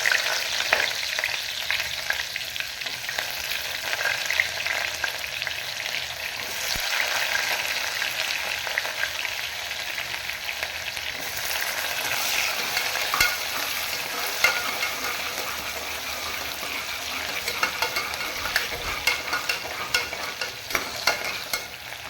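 Onions sizzle and crackle in a pan as they are stirred for green peas pulao, a continuous, fairly loud frying hiss with occasional scrapes and no voices.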